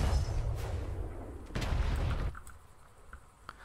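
Medium cannon fired at a Brigantine ship's medium plank hull in the game Atlas, a loud heavy boom with rumbling low end that decays over a couple of seconds, then a second sharp blast and quieter thuds trailing off.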